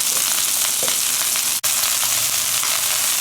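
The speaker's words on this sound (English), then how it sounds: "And continue browning each side." A stuffed beef roll searing and browning in a hot pan, a loud continuous close-up sizzle with faint crackles, broken by one very brief dropout midway.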